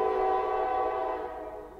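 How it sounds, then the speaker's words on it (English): A passing train's horn sounds one loud, sustained blast nearby, holding steady and then easing off as it fades. "Train. Oh, it's got a bell."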